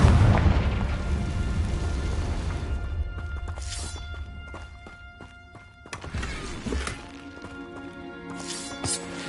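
Confringo blasting spell exploding in Hogwarts Legacy, a big booming blast that rumbles away, followed by scattered magical chimes and a second impact with ringing tonal effects.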